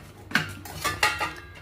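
Ceramic plates and kitchen vessels clink and knock together in a small home kitchen, three or four sharp, close clatters spaced across a short stretch of handling.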